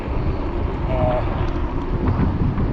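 Steady wind buffeting the microphone during an e-bike ride on an Aipas A2 Elite, a continuous loud low rumble with no breaks.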